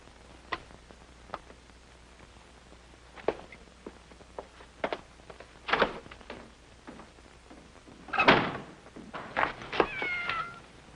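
A cat meows several times in a quiet room: short cries spaced a second or two apart, then a louder, drawn-out wail and a quick cluster of calls, with faint ticking taps in between.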